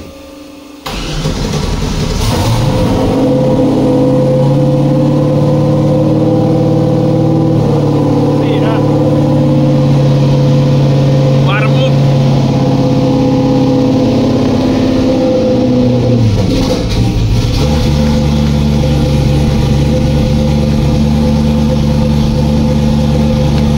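A Finnish drift car engine cranks and catches after a moment, then runs loud and steady with a rough, droning idle and shifting revs, close up, with a brief lull near the end before it settles again.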